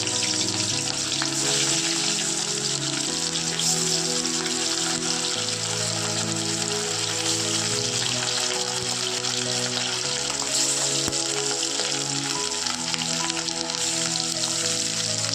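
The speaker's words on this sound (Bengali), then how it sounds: "আমি এবার মাছগুলো ভেজে নিই তেলও গরম হয়ে গিয়েছে" Loud, continuous sizzling and crackling of chela fish frying in hot oil, steady throughout, with a faint musical tone underneath.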